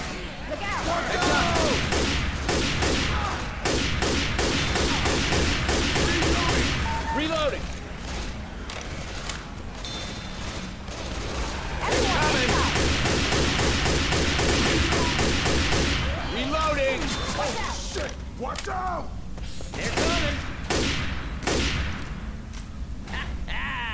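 Video game gunfire fills the whole stretch: dense automatic bursts and rapid shot volleys, loud and continuous with brief lulls, the game's own effects and other game sounds mixed in.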